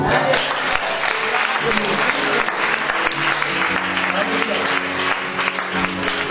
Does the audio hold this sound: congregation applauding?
yes